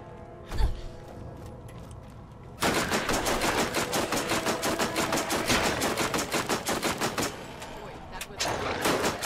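Rapid automatic gunfire from the video game Borderlands erupts after a quiet stretch and a single sharp shot, a dense run of loud, evenly spaced bursts sustained to the end.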